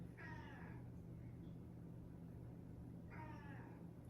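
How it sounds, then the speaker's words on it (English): A house cat meows twice, each a drawn-out, wavering call spaced a few seconds apart, moderately near over a steady low electrical hum in an indoor room. "I hear your cat."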